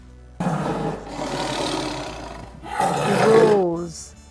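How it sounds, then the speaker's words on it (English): Lion roaring in a series of loud, rough, breathy bursts, the last one ending in a deeper drawn-out groan, close and with no talking. "Lion roars."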